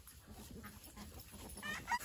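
A chicken clucks faintly in a few short, soft calls against a quiet background, slightly louder near the end.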